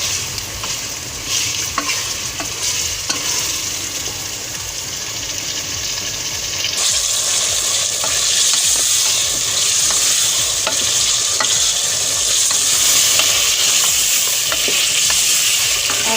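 Beef karahi masala fries in oil with a loud, continuous sizzle up close, swelling brighter halfway through as the spiced mixture is stirred, with faint scraping strokes underneath and no voices.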